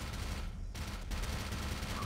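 Automated turret gunfire in the shooter game Black Mesa, a continuous rapid rattle of shots with a brief dip partway through, dense and steady over the whole stretch.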